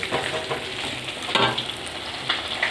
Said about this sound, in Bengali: মাছ ভাজার তেলে আমি ফোড়ন দিয়ে দিচ্ছি একটা তেজপাতা একটু শুকনো আর একটু জিরে ফোড়ন দিয়ে